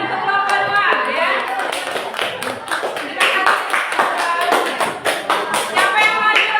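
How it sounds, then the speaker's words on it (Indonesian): A classroom group receives clapping from students, a patter of many hands that rises and falls across several seconds, with some voices mixed in. "tepuk tangan untuk kelompok 2 ya"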